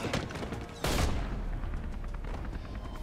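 Gunfire in the video game Beyond Two Souls: a fusillade of sharp shots with one loud burst near the start of the second second, then scattered lower thumps, moderately quiet and with no talk.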